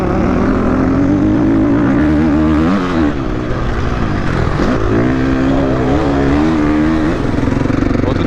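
Sport motorcycle engine revving hard on a race track, a loud, close, continuous high-pitched howl whose pitch rises and falls as the throttle is worked, with a voice talking briefly.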